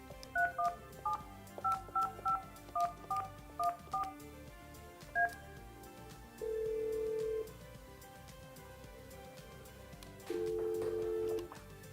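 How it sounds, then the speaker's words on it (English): Keypad tones beep on a Yealink desk phone as a number is dialed, around a dozen short, evenly spaced electronic blips, then two longer steady tones a few seconds apart, clear and close. "To place a call using the speakerphone, dial the number and hit send or the speakerphone button."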